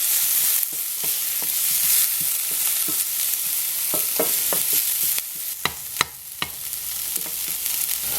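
Food sizzles and fries steadily in a ceramic pan while being stirred, a constant hiss broken by sharp scraping clicks of the utensil, close and fairly loud.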